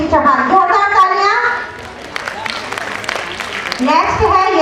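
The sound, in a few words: applause at a school annual function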